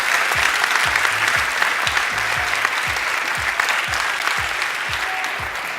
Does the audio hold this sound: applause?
yes